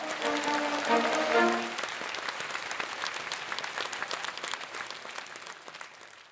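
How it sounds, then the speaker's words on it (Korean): An audience at a large Buddhist Dharma assembly welcomes a speaker with steady, sustained applause that peaks early, then gradually thins and fades over several seconds, a brief voice heard at the start. "여러분 큰 박수로 환영해 주시기 바랍니다"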